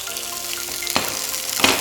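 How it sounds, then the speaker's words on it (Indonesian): Water spinach and tomato hitting a hot pan give a steady close sizzle, with a couple of sharp bursts as the greens drop in and shift. "kita turunkan kangkungnya beserta tomatnya"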